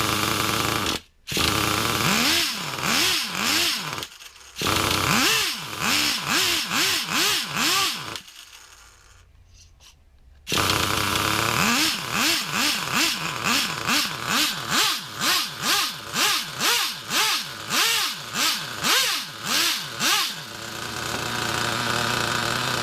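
A nitro engine in a Traxxas Revo RC truck idles rich with a rough, pulsing buzz. The engine blips and rises several times, cuts out briefly and then starts running again.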